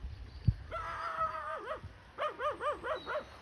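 A dog in an Atlas mountain village near Imilchil, heard from a distance, giving a drawn-out whining howl and then a quick series of four or five rhythmic yelping barks.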